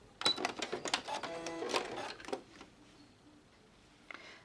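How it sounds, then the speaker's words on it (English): A sewing machine runs a tiny test stitch for Madeira appliqué, a quick close burst of rapid mechanical clatter lasting about two seconds before trailing off into quiet, with one faint click near the end. "I'm going to run a test stitch"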